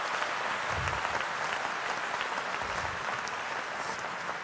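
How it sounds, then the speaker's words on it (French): A church audience at a worship gathering bursts into continuous, even applause, a dense wash of clapping filling the room from start to finish without speech over it. "On peut vraiment applaudir le Seigneur."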